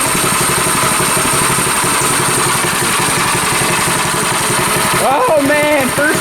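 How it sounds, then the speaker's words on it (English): A go kart engine idles loudly close by with a fast, even pulsing chug, and a person speaks over it near the end. "It's a pretty good idle."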